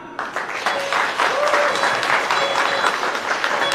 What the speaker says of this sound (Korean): 더 큰 박수로 신부를 맞이해 주시기 바랍니다.